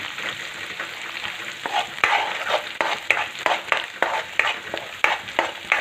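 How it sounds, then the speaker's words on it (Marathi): Onion and coconut masala frying in oil for a spicy Karjat-style Shipi amti curry, a steady close sizzle broken by repeated scraping stirs of the spatula through the pan. "आता हा मसाला आपल्याला आपण अगोदरच भाजला त्यामुळे फक्त एक मिनटं असा मस्त तेलामध्ये मिक्स करून घ्यायचा आहे"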